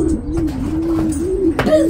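Pigeons coo close by in a low, rolling, repeated call, several soft phrases in a row with a brief sharper sound near the end.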